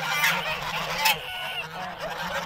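A flock of geese honks and squabbles, with loud overlapping nasal calls and a few sharp peaks, close and continuous.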